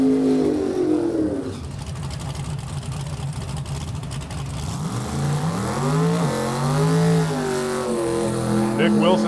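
A Fox Body Mustang and a Corvette drag car rev loudly through burnouts at a drag strip, engines rising and falling in pitch, with people talking over the engine noise.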